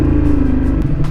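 Ducati Streetfighter V2 naked motorcycle with a 955cc Superquattro twin-cylinder engine, idling close by with a loud, steady, throbbing low rumble and brief mechanical ticks on top.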